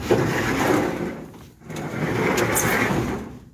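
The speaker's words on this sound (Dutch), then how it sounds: "Nou, ik ga even de deur dicht doen." A wooden stable door is pulled shut in a horse stable on a warm day, giving a continuous scraping, rumbling slide with a brief pause midway before the motion resumes, fairly close and with no talking.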